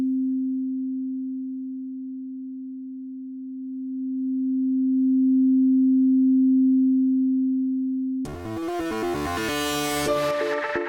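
A steady pure sine tone from an oscillator in the Bitwig Grid modular synthesizer, held at one pitch and swelling slightly in loudness for about eight seconds, then giving way abruptly to a brighter, harmonically rich synth passage.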